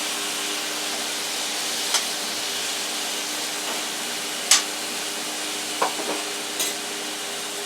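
Potatoes for home fries sizzle in an oiled pan, a steady hiss carrying on evenly with a few sharp clicks and clatters from the pan scattered through.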